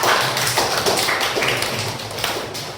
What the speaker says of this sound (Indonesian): Sekarang berikan aplaus untuk teman kalian